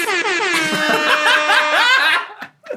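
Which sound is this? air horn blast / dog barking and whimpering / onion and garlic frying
air horn blast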